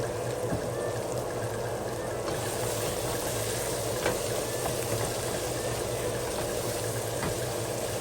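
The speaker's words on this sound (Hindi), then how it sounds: "अभी मैं इस मसाले को अच्छी तरह भूनूंगी।" Spice masala sizzles and fries in a pan for a Punjabi aloo wadiyan dish, a steady close crackling hiss with faint bubbling pops throughout.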